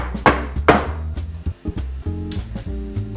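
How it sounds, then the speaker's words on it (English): A baking tin filled with pecan mocha brownie mixture is knocked down twice in quick succession, giving two sharp, close bangs over steady background music. "you want to bash the tin a couple of times just to get rid of any air pockets"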